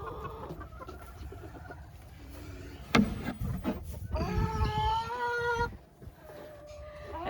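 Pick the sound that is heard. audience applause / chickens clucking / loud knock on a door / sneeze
chickens clucking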